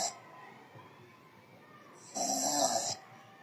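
A person snores faintly, with a quiet breath early on and then one louder, rasping snore of about a second near the end.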